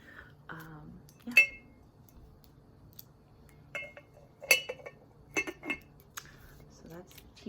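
A stainless steel teapot being handled up close in a quiet room, sparse metallic clinks and taps spaced irregularly, a few sharper bright knocks over a faint low hum, with soft breathy sounds between.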